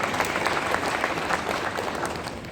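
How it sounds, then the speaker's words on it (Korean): Audience applause at a Lions Club district officers' seminar, a dense steady patter of many hands clapping throughout, fairly close and even in loudness. "우리 김현수 총재는 박수 한번 드릴까요?"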